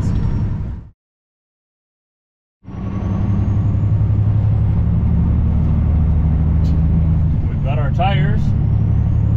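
Truck merging onto northbound I-35 in Iowa, a steady low engine rumble and road roar close inside the cab, broken by a brief silent gap near the start, with a short squeaky chirp late on.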